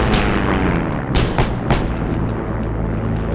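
Semi-automatic rifle fire in the World War II shooter game Heroes and Generals, several loud booming shots in quick succession over continuous dense game noise.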